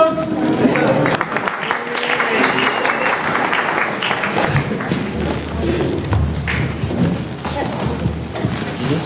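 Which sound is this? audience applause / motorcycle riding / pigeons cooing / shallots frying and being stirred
audience applause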